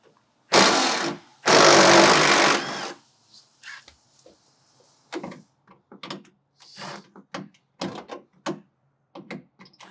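A power tool whirs in two loud bursts while removing small 10mm bolts from a second-generation Toyota Tacoma rear bumper, followed by scattered clanks and rattles of metal parts being handled.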